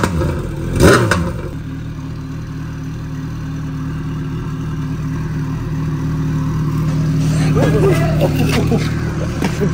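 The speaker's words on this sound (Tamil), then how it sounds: "என் வண்டி அது முறுக்கிட்டுருக்கா?" A motorbike engine runs steadily on a road, its low hum building gradually into a revving rise toward the end, with a sharp knock near the start and speech-like voices mixed in.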